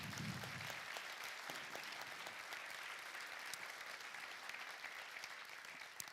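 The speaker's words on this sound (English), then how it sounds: "Let's get another huge round of applause for all of our finalists and winners for this evening's Emerald Awards." Steady applause from an audience at the Emerald Awards for Environmental Excellence at the Timms Centre, a dense, even wash of clapping heard from some distance that holds throughout.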